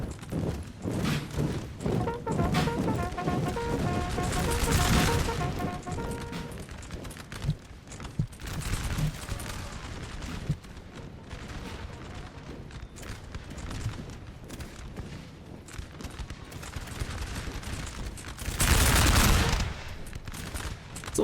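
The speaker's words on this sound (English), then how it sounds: "It's a long distance to be firing" Musket volleys in a Napoleonic-era battle from Napoleon Total War, with rolling bursts of massed gunfire, thumps and rumble recurring across the scene, loudest near the start and again toward the end.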